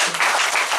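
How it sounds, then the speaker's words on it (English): A church congregation bursts into a short round of clapping during a sermon, a dense, brief patter of many hands heard alone. "Say amen and clap."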